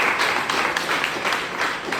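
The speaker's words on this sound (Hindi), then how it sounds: "जोरदार ताली इनके लिए, बढ़िया।" Audience applause for a factory owner, steady dense clapping from a crowd lasting the full moment, fairly loud with no talk over it.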